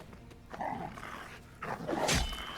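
A dog in a fantasy role-playing video game, a few barks and yips mixed with game sound effects, fairly close and loud, ending in a sharp burst with no talking.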